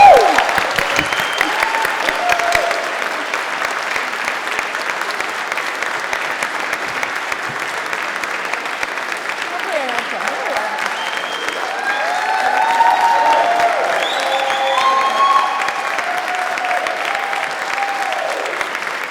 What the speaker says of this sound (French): j'aimerais qu'on prenne un instant pour applaudir toutes les personnes des organismes communautaires ici présents ce soir